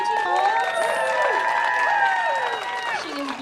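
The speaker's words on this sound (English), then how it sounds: "Let's get another round of applause for Christy Yamikuchi" Audience applause for Christy Yamikuchi at a Japantown Pride flag raising ceremony in San Francisco, a steady round of clapping mixed with loud whoops and cheering voices, sustained throughout.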